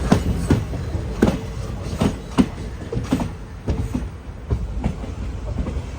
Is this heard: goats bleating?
no